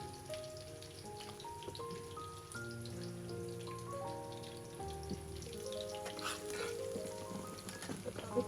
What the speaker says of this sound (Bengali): এখন বাগার দিব, বাগার দিলেই শেষ